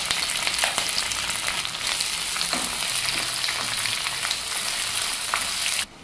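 Five slit green chillies fry in a pan of oil with onions for a dill leaf pulao, giving a steady, close, dense sizzle that runs alone almost to the end, then drops away sharply.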